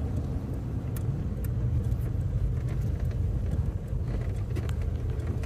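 A 1984 Chevrolet Caprice Classic with 16,000 miles pulls up a hill, its engine giving a steady, loud low rumble under light wind buffeting, with no talk.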